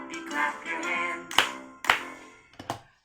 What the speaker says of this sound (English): If you're happy, happy, happy, clap your hands, clap your hands.